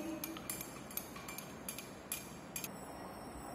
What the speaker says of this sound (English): Then we will stir this solution properly.